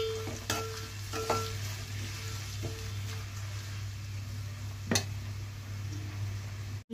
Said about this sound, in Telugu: ఉల్లిపాయ ముక్కలు, ఉల్లిపాయలు కాస్త బ్రౌన్గా వచ్చేలాగా వేపుకోవాలి.